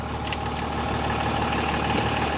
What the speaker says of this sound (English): I want you to hear this diesel.